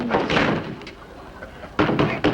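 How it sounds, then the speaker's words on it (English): Sharp knocks on a door in a 1950s sitcom scene, a couple of loud raps after a stretch of quieter room sound, with a voice briefly present early on. "Oh, you don't have to knock, dear."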